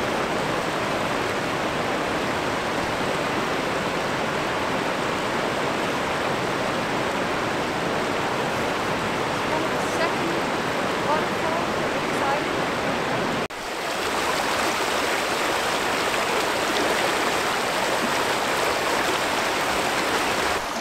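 Strong, deep stream rushing steadily close by, a dense continuous wash of water that briefly dips and resumes, heard at a crossing point being waded.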